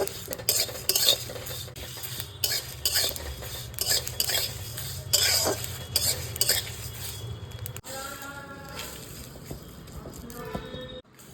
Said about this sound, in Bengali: দেখো কীরকম ফটফট করে আওয়াজ হচ্ছে, তার মানে এবার এটা প্রায় হয়ে এসেছে